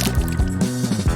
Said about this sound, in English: Now just add water.